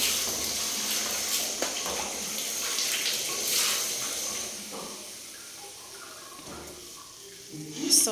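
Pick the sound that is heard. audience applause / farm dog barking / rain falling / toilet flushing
toilet flushing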